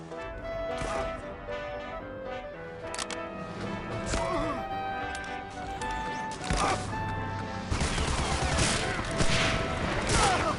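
Bolt-action rifle fire from Kar 98 and Springfield rifles in the World War II shooter Medal of Honor: Allied Assault, with repeated sharp shots and booms over dense battle noise and music, loud throughout.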